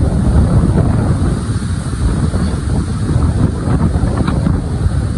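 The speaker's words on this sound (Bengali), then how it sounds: "গাড়ি থেকে নামা যেতেছে না, কি পরিমাণ বাতাস।" Strong wind buffets the microphone in a steady, loud roar, a dense low rumble with gusty swells that continues without pause throughout.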